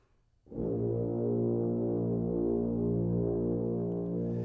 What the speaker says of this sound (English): when the contrabass tubas play together, they sound like this